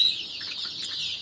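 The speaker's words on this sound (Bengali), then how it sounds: "এই যে দেখতে পাচ্ছেন আমার মুরগির বাচ্চাগুলো" Backyard native chickens cluck softly nearby, a few short murmuring calls over a brief stretch with no talk.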